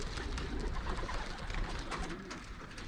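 Young racing pigeons coo steadily in a loft, a dense, close chorus of soft throaty calls layered over one another with no talking.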